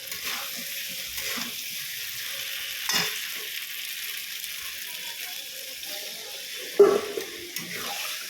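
Potatoes simmering in a kadai with a little added water for a vegetarian meal, a soft steady sizzle and bubble running throughout, with a few brief stirring clatters standing out near the middle and toward the end.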